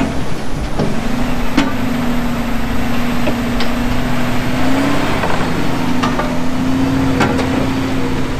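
A vehicle engine drones steadily under throttle, loud and close, with a constant low tone and scattered knocks and clatters over it.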